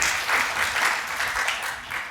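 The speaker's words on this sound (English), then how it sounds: "So big round of applause to them." A room of listeners applauds at an afternoon literary event honoring translator Howard Goldblatt, producing a steady, dense wash of clapping that stays loud and even throughout the short stretch.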